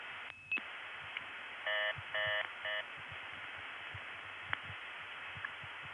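Step-by-step tandem telephone exchange in Olney, Illinois, 1981, during a senderized call attempt: a steady line hum with a brief tone burst, then three short multi-frequency signaling bursts in a row, after which the line goes quiet without a key pulse.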